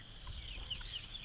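Chickens and roosters clucking softly on a homestead, with guinea fowl nearby; faint, scattered calls over low outdoor background noise.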